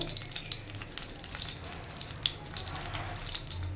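Oil heats in a kadai before dried chillies, panch phoron and radhuni go in, giving a soft, steady sizzle with scattered small crackles and pops, fairly quiet and alone.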